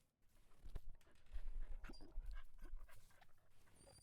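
A dog in a video game pants near the listener, a run of quick, breathy huffs with a few faint whimpers, moderately quiet against a light background.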